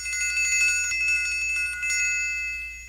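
The triangle on an ice cream wagon rings bright and metallic, with several quick, shimmering strikes that linger and fade over a few seconds. Nothing else is heard alongside it.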